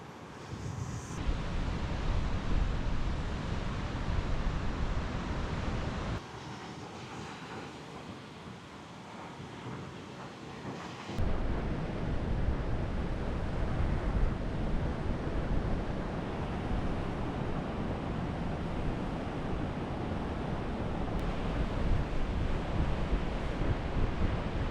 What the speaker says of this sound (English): I think I might chill for a bit and wait till this wind sorts itself out